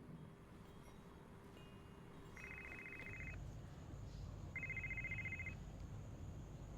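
An incoming call in an indoor film scene: a telephone rings in two separate short trilling bursts, a second or so apart, over a low steady background hum.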